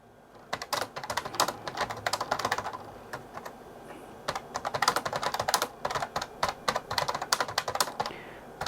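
Fingers type quickly on the keyboard of an AlphaSmart 3000 portable word processor, making close, clacky keystrokes in irregular bursts with a brief pause partway through.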